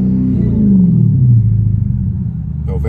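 A car engine rumbles loudly and steadily after the gas is pressed, its low drone sliding downward in pitch before a brief voice near the end.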